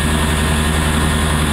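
Steady engine drone of an antique Soviet-era coal-fired train, a continuous low rumble with a broad mechanical hum and no break across the short stretch.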